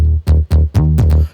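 Deep electronic bass from a dance track remake, thickened with Sausage Fattener distortion, pumps in a quick pattern of short, loud, gritty notes with tiny gaps, heard alone and up front.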